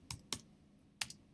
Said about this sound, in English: So we can type in hockey